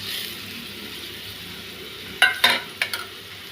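Green chilli masala paste, turmeric and ginger-garlic paste being stirred in a frying pan while making brinjal fry, with a soft steady sizzle and a few sharp scraping stir strokes near the end, no talking.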